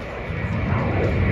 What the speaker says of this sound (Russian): Самолетик.